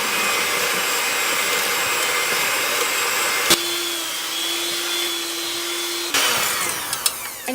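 A hand mixer fitted with a whisk attachment whirs steadily while whipping a keto summer fluff dessert, its motor pitch shifting midway and then stopping near the end, with clattering bowl contact and no talking.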